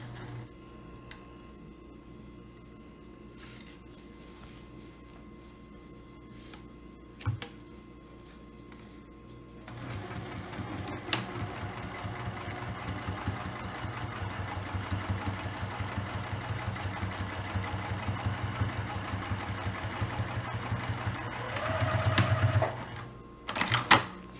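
A sewing machine runs along the sides of a tote bag, a steady mechanical whirr that starts partway through after quieter ticking and handling, close and moderately loud, ending with a few clunks.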